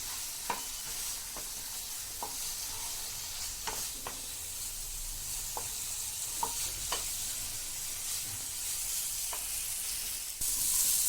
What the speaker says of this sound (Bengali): বাটি ধোয়া জল দিলাম, এটা একটু কষিয়ে নিই।